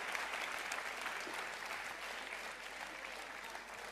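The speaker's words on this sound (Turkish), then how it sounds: "Alkışlar onlar için" Studio audience applauding on a Turkish TV talk show, steady dense clapping throughout, fairly distant and even, with no talk over it.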